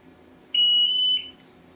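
A handheld gas detector runs its startup self-test after power-on, giving one loud, steady high-pitched electronic tone of about three-quarters of a second over a quiet background.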